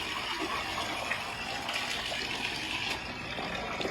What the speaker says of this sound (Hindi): अब इसके अंदर जो पानी है वो बढ़ रहे हैं, ये पानी इसका आ गया बाहर